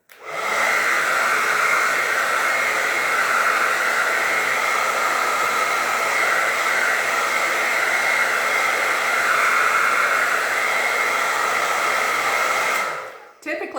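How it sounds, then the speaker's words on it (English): Hair blow dryer running steadily at close range to dry a face mist on the skin, a loud continuous whooshing roar that starts abruptly and cuts off near the end. "to speed up the process, I'm going to use my blow dryer again."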